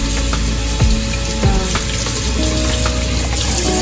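Fresh cilantro gets rinsed under a running kitchen tap, a steady loud rush of water with a few light knocks and clinks scattered through it.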